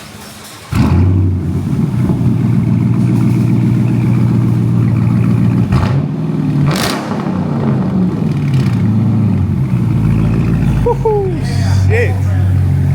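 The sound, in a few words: straight-piped Dodge Charger R/T engine revving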